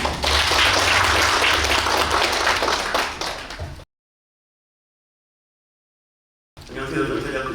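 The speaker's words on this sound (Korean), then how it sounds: "큰 박수 부탁드립니다" An audience at an economics policy symposium claps loudly and densely for several seconds before the sound cuts to silence. A voice then begins speaking.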